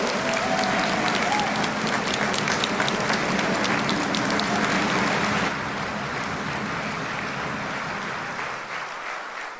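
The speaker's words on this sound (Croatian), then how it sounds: "Nika Pastulović, koju ćemo također dopratiti ovdje jednim velikim pljeskom." A large crowd at a youth political rally in a Zagreb fair hall applauds loudly and continuously, fading somewhat and softening toward the end.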